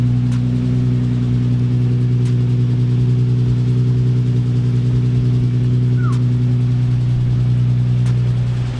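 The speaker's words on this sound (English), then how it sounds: "it's loud as shit right now, obviously, because the car is running" A Nissan 350Z idles loudly and steadily with a strong low droning hum, close and constant throughout, a few faint clicks and a brief squeak over it.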